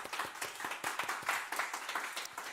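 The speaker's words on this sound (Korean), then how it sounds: "잘 왔다고 우리 박수로 또 환영해 드리도록 하겠습니다" A church congregation at a Sunday youth service claps in welcome, the quick, uneven hand claps loud and close, running steadily for a few seconds with no talking.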